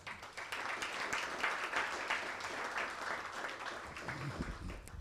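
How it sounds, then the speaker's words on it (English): An audience at a city's State of the City address applauds for several seconds, a moderately quiet, even patter of many hands clapping that tapers off near the end. "I just want you guys to give yourself a round of applause for being here"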